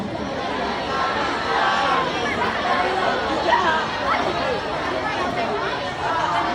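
Congregation at a church sermon murmurs softly to neighbours on either side, a steady crowd babble of many low voices filling the room without pause.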